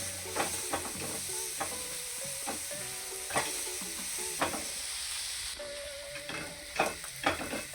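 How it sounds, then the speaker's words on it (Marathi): Cooked pav bhaji vegetables mashed with a metal masher in a pan, giving repeated soft thuds and scraping taps in an irregular rhythm over a gentle background sizzle, close and with no talk. "त्या पावभाजी मॅशरनी त्याला व्यवस्थित असं मॅश करून घ्यायचं"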